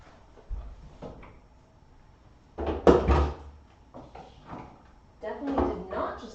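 Refrigerator door opened in a home kitchen and eggs set back inside, with several soft clunks and knocks from the door and shelves mixed in among a person talking.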